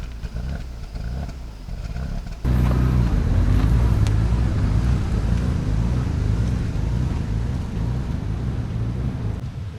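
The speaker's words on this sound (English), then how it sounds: "the good thing is that the engine runs" The engine of a BMW 535xi wagon runs after starting, a dense, loud rumble that jumps up abruptly a couple of seconds in and then holds steady, with no talk over it.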